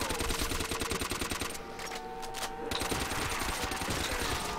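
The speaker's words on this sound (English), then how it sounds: "Somebody's shooting at me." Rapid gunfire in World at War custom zombies, loud machine-gun bursts that drop out briefly mid-clip and then resume at full intensity.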